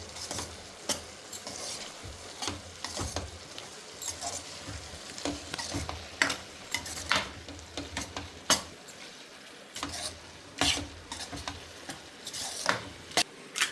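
A prawn and onion curry mixture is stirred in a hot pan: a faint sizzle runs beneath rapid, uneven scraping and clicking of a spoon against the pan, near and fairly quiet.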